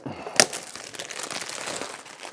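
A sharp rip followed by continuous crinkling of plastic wrapping being pulled off a perfume gift set box, close and moderately loud.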